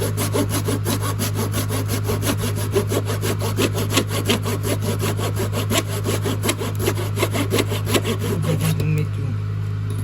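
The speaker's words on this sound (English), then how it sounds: "you can use a flush cut saw." A flush cut saw trims 3/8 inch wooden dowels set in pocket holes, its fast, even back-and-forth strokes rasping steadily for ten seconds over a constant low background hum.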